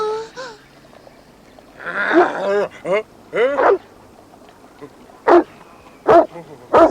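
Large dog barking in a cartoon, several loud, separate barks spaced apart toward the end, after a stretch of talking.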